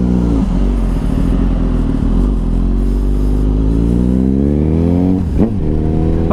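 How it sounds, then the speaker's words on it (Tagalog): A loud, close Suzuki GSX-S1000 sport motorcycle engine runs with a sharp, high-pitched tone, its pitch climbing and briefly revving near the end. "una kong mapapansin dito sa motor na to is matining yung tunog niya"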